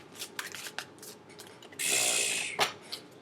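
Tarot cards get shuffled by hand in a few quick riffling bursts, capped by a longer hissing riffle lasting most of a second, close and fairly soft with no talking.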